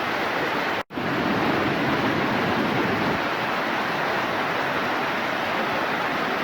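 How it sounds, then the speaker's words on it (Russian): A roar of steady, broadband rushing water from the roughly 8-metre Probiy waterfall, set between cliffs in a long Carpathian gorge, heard up close with no voices and a brief dropout near the start. "Водопад Пробий расположен между скал в длинном ущелье."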